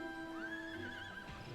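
A horse whinnies in a video game, a clear rising and falling neigh carried over a steady musical drone, with faint clip-clop and other game sounds near the end.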